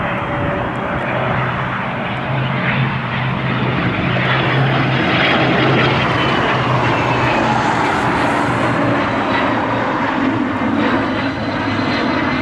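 A Cessna Citation business jet flies inbound to land on a breezy evening at Cleveland airport, a loud sustained engine roar and whine that swells and holds steady throughout, with no voices.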